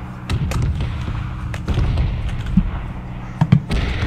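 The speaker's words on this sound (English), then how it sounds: "Oh, watch out, you're in the bomb zone, bro." Red zone bombardment in PUBG, with dull, heavy explosion thuds landing at irregular intervals over a steady low rumble, some distant and a couple sharper and closer.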